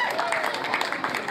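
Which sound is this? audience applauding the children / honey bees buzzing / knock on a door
audience applauding the children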